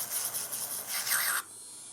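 Electric nail drill whirring steadily at close range, a high thin buzz with slight fluctuations, then cutting out abruptly near the end, leaving quiet room hiss.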